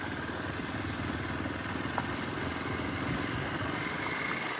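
A motorcycle engine runs steadily close by, with a dense, continuous rumble and faint mechanical clatter throughout, no talk over it.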